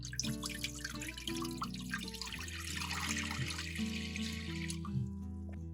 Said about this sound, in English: Now pour water into the steamer.